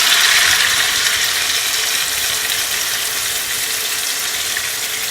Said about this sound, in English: I'm just gonna pour all my liquid